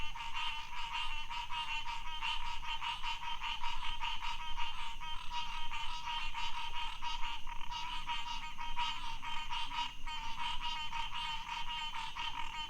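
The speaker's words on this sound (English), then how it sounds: "I think these are frogs" A dense chorus of frogs croaks near the water along the Intracoastal Waterway, a steady, pulsing rattle close by that carries on without a break and with no talk.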